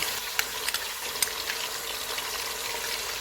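Mutton with ginger and garlic paste frying in a pot for korma, a continuous close sizzle with a few sharp crackles and stirring scrapes, no talking.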